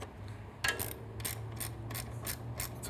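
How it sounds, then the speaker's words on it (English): A ratchet socket wrench with a 12 millimeter socket tightens exhaust bolts on a Triumph Street Twin motorcycle drag pipe system, giving close, rapid bursts of clicking with no talking. "Then using a 6 millimeter Allen and your 12 millimeter socket,"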